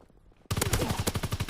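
Gunfire from a WW2-era gun in the Call of Duty WW2 game bursts in after half a second of near silence, a loud rapid automatic stream of shots rattling on without pause to the end.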